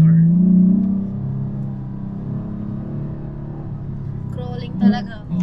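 An off-road car on a dune bashing outing drones with a low, steady engine hum that eases after a louder opening and swells briefly near the end, and faint voices sit around it.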